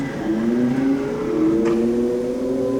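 A Haas vertical machining center drives its axes with servo motors, producing a steady whirring whine with gliding pitch over a constant mechanical hum, close and continuous.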